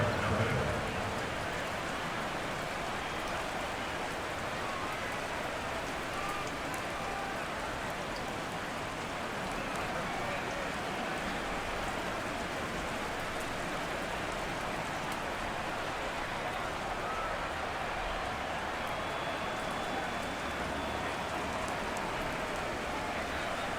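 Steady, dense rain hiss fills a Steelers versus Jaguars football video game match, a constant wash of falling rain from start to finish with no breaks and only faint crowd texture beneath it.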